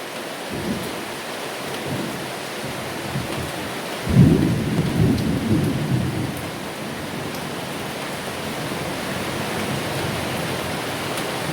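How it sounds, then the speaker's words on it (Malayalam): Heavy rain pours down steadily, and a deep rumble of thunder rolls in about a third of the way through before fading back under the constant downpour. "നല്ല ഇടിവെട്ടുണ്ട്."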